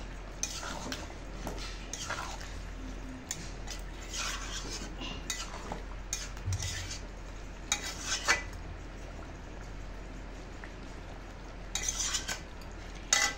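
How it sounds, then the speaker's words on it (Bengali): Chicken kosha with ghee and garam masala is stirred in a pan, giving quiet scraping and clinking of a utensil against metal in irregular bursts over a low sizzle, close and fairly faint, with no talking. "একটু নাড়াচাড়া করে দিই"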